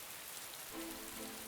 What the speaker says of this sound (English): In the previous night it started to rain, and since then the pitter-patter has not stopped.